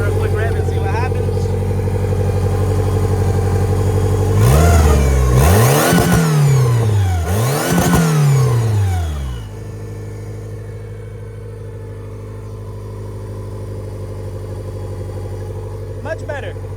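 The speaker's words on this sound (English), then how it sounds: "Give her a quick rev and see what happens." A fully built 500 hp turbo Honda Civic GSR engine on 93 pump gas idles steadily, then revs up hard through two quick rising and falling sweeps before settling back to a loud idle.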